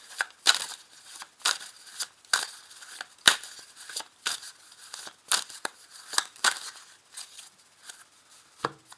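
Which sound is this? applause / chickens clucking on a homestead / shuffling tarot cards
shuffling tarot cards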